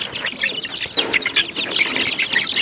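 Siruvidai native chicken chicks on a farm chirp and peep in a busy, overlapping chorus, close and fairly loud, with no talking.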